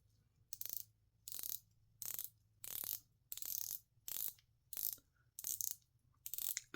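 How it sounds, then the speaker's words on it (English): A 120-click unidirectional bezel on a WM212 watch ratchets in eight short bursts of crisp clicks, each a quick turn separated by brief pauses, close and quiet. "You've got 120 click unidirectional bezel"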